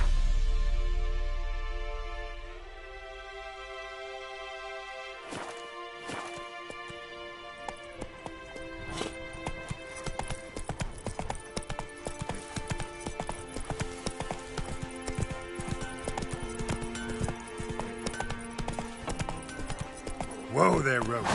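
Video game horse Roach gallops with rhythmic clip-clop hoofbeats under a layer of game music, the pounding steady and fairly close.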